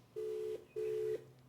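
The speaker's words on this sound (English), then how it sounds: "Calling, ringing. Ringing." Two identical ringback tones, each about half a second long, separated by a short pause, heard close and clear.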